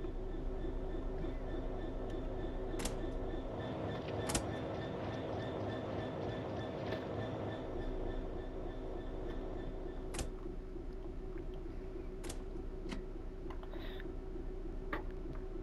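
Southeastern high-speed train running, heard from inside the cab: a steady, continuous rumble with faint whine tones and occasional sharp clicks, no talking.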